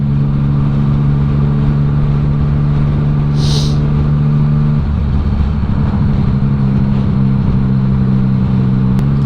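Several motorbikes ride past on an open road used as the Isle of Man TT course, a steady engine drone running throughout, with a closer machine growling by about halfway and a thin higher whine briefly rising above it.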